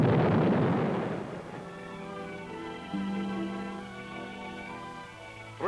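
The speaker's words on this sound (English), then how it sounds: "Electric blasting caps fire the charge." An explosive charge set off by electric blasting caps: a loud, deep blast that fills the opening second, then fades into a long rumbling tail under a steady hum.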